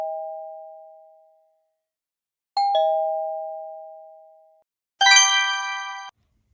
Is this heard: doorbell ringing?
yes